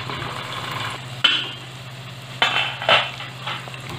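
Indian gooseberries (amla) cooking in a pan over a medium gas flame for a South-style pickle, stirred a few times with soft scraping strokes over a faint, steady sizzle.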